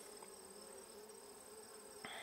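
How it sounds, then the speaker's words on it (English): Honey bees buzz steadily around an experimental beehive being adjusted for winter, a continuous close drone with a brief louder knock near the end. "you get a couple bees coming up to see what the hell you're doing"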